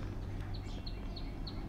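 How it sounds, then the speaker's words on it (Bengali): Birds call among trees in the morning, giving four faint, evenly spaced chirps over a steady low background rumble. "অনেক পাখির ডাক শোনা যায়"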